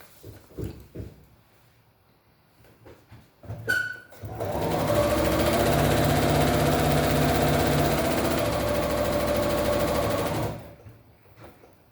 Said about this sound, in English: so I'll just sew that down